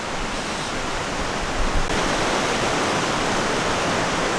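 A high, swollen river rushes with a dense, steady roar like a waterfall, loud and close, with no voices.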